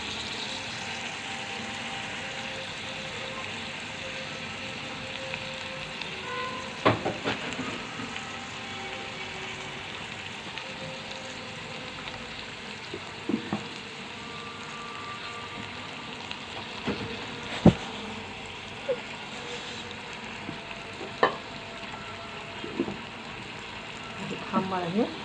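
Chicken frying and browning in a pan, a soft, steady sizzle with occasional light taps and clinks, quiet and continuous throughout, with a few brief spoken words.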